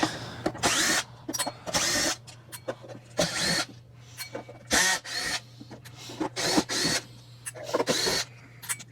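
A power driver unscrews Torx T20 screws from an Oreck Elevate upright vacuum, whirring in about a dozen short loud bursts separated by brief pauses over a low steady hum.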